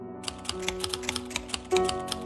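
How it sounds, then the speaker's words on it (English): Typewriter keys in the Dracula typing game clack in a steady even rhythm, each strike crisp and close over soft mellow music, with a carriage bell ding near the end. "Typing game, mellow music, and all you're doing is you're pretty much writing out the novel."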